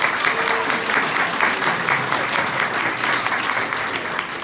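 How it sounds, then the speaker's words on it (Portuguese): An audience at a theatre performance in Brazil claps in a dense, steady wave of applause that fills the room and stays loud throughout without pause. "Pode aplaudir"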